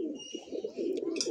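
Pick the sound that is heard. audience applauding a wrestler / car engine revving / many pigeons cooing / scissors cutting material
many pigeons cooing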